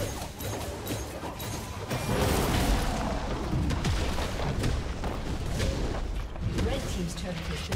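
A turret in League of Legends is destroyed with a loud, sustained crashing rumble of explosive booms and debris that fills the whole stretch without pause.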